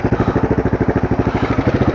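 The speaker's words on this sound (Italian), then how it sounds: "vi faccio sentire il rumore della moto" Husqvarna SM 610 motorcycle engine thumping close by in a steady, rapid single-cylinder pulse, loud and even for a couple of seconds.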